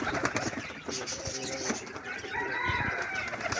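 Fancy pigeons such as lotan, lakka and shiraji in a pigeon loft, soft cooing and a few wing flutters heard close, with someone talking over them.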